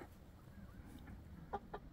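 Chickens clucking nearby on a farm, a few short soft clucks and one louder cluck over low outdoor background noise.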